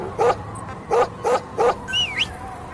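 Dog in Metal Gear Solid V barking on command, four short evenly spaced barks close up, followed by a brief rising whine or yip.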